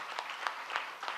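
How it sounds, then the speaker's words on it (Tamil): Audience clapping at a Thai Pongal debate program in a Tamil hall, heard as a faint, distant patter with soft bursts of claps roughly every third of a second. "நல்லா கைத்தட்டலாம்"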